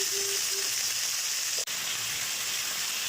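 Vegetables sizzle and fry in shrimp oil with dry chili and five-spice, a steady loud crackling hiss with a brief clink partway through, no talk.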